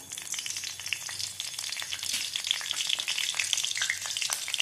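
Whole cumin seeds and bay leaves fry in hot oil with a continuous close crackling sizzle that pops and spits throughout.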